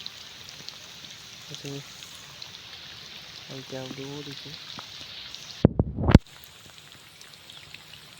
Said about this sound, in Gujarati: વરસાદ તો આવી ગયો.